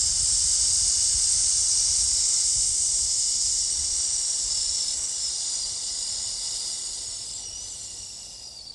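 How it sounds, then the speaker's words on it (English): A person slowly exhales through the teeth during a yoga breathing exercise, making a steady, close, snake-like hiss that holds for several seconds and fades gently at the end, with no talk over it. "I'm hissing it out like a snake or like air out of a tire or a balloon."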